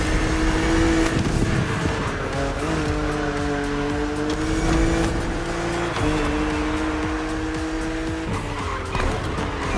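Engine of a BMW Z roadster in the racing game The Crew Motorfest, droning steadily with shifting revs and gear changes, plus intermittent tire squeals and skids, continuous and loud throughout.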